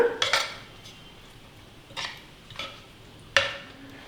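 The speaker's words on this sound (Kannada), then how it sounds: "ಎಲ್ಲದೂ ಒಂದ್ಸಲ ಮಿಕ್ಸ್ ಮಾಡ್ಕೊಂಡ್ಬಿಡೋಣ." A spoon stirs and scrapes through curd rice in a metal vessel, with tempering and grated carrot mixed in, making four sharp clinks spread unevenly over a few seconds against a quiet background and no talking.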